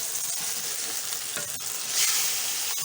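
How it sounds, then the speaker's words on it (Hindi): Meat goes into frying onions in a pan for Delhi-style nalli nihari, giving a loud continuous sizzle with stirring and scraping noises close by. "अब मैं ये गोश्त शामिल करूँगी।"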